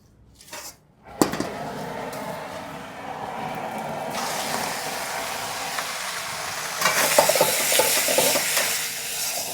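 Chicken sizzles and fries steadily in a hot kadai, with a sudden burst of hissing partway through and occasional stirring clatter.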